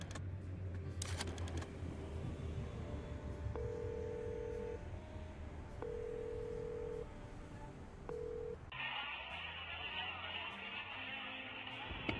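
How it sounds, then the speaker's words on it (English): A telephone number is dialed in the video game Chicken Police, a series of short electronic keypad tones spaced a second or two apart over background music, then a shift to a hissing line. "Maybe let's try to make a phone call again."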